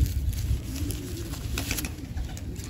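Soft, low pigeon cooing repeats close by over a rumbling background, with a few faint chirps higher up.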